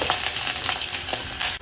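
Garlic frying in hot oil crackles and sizzles at close range, a steady bright spitting with soft clicks of stirring throughout.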